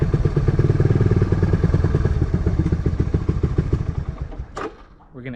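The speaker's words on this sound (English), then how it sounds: "We're gonna attempt to start the CR500 the easy way." A cheap Honda CR500 motorcycle engine being started: loud, close, rapid chugging firing pulses that slow and fade, cut out with a brief clatter, then leave faint after-noise.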